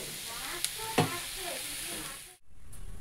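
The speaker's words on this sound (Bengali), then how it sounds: "তো এই যে ভাড়ালি ভাজা হচ্ছে এখানে" Bharali fish sizzles as it fries in a pan, a steady soft hiss broken by a couple of sharp stirring clinks and a brief pause near the end.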